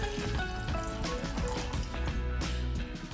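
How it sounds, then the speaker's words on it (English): Water pours into a heated pan for making lemon tea, a short continuous liquid splash and trickle heard close up under soft background music. "add 2 glasses of water."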